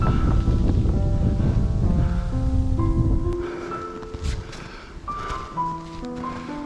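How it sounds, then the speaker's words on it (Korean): A strong valley wind rushes along a snowy Sobaeksan mountain trail, a loud broad roar that buffets the microphone for a few seconds, then eases and leaves faint tonal sounds behind. "거세게 골바람이 불어오기 시작한다."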